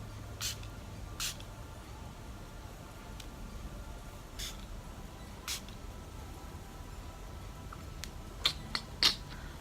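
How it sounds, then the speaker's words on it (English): Short broadband hisses of a Catrice Prime and Fine anti-shine fixing spray misted onto a face, several brief bursts spread across a quiet room, crisp and close. "I'm using the Prime and Fine Anti-Shine Fixing Spray by Catrice Cosmetics"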